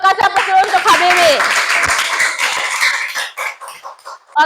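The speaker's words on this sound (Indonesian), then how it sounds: "kasih aplaus dulu untuk Habibi" Classroom applause for a student named Habibi: a dense burst of clapping from many hands that fades after about three seconds, with a teacher's voice and student chatter mixed in.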